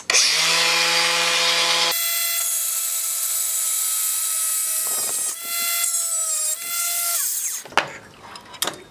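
An angle grinder cuts through bamboo with a loud, sustained high-pitched whine that shifts pitch as the disc bites, then winds down into scraping and handling noises.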